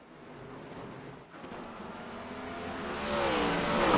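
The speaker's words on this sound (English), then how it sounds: "these next gens just sound awesome as they whiz by" Next Gen stock cars sweep past at Watkins Glen, their engine roar swelling and rising in pitch as they approach, loud and building toward the end with no voices.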